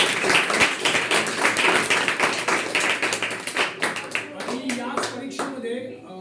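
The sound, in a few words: loud applause for students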